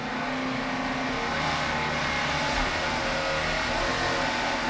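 Engines of a Supercat-class offshore racing powerboat rev loudly and steadily close by during a race, with a dense, continuous roar and no voices.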